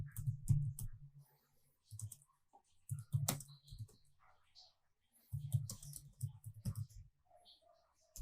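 Bursts of typing on a computer keyboard, close and quiet, with clusters of quick key clicks separated by short pauses, joined by scattered single clicks and faint background speech.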